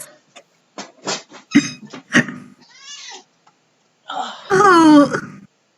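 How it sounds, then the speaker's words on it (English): A cat gives a short, thin, high meow and then a longer, drawn-out wavering one, both small-sounding, after scattered clicks and bumps in a quiet room. "Oh, I just hear the little kitty."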